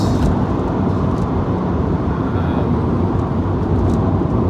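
An E85 BMW Z4 with the 3.0-litre M54 straight-six pulls hard through third gear, giving a loud, sustained engine roar with road noise close by.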